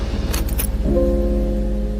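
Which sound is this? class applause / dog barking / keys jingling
keys jingling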